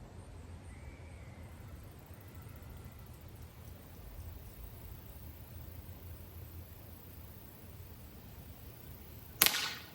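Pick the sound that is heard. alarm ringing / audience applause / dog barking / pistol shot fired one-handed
pistol shot fired one-handed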